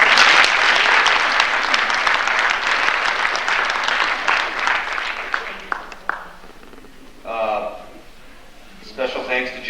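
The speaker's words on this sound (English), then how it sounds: "She deserves a nice round of applause" Applause at a school winter sports awards ceremony: dense, loud clapping from an indoor audience that fades after about six seconds into scattered claps, with a voice briefly speaking near the end.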